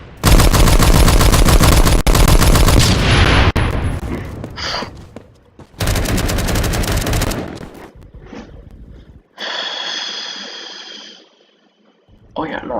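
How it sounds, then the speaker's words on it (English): Gunfire and grenade blasts in the first-person shooter Phantom Forces, played with a Sten submachine gun: loud dense bursts of automatic fire, a short quieter gap, another heavy burst, then a lower sustained rumble that cuts out and returns at the end. "toss out a few grenades"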